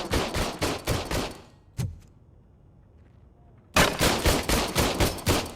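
Service weapon gunfire in the video game RoboCop Rogue City: a rapid, loud automatic burst, then a lone shot and a near-silent gap of about two seconds, then another fast burst, all close.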